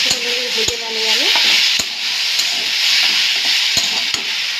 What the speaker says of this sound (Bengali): ভেন্ডিটা চলে ভেজে নিই ভালো করে